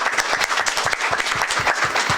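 Applause from an audience at a New York City panel on urban planning, dense steady clapping close and loud, with no speech over it.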